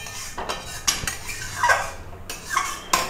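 Mango chutney scraped out of a cooking pan into a bowl, with a run of close metallic scrapes and clanks of a spoon against the pan rim, coming in short irregular bursts.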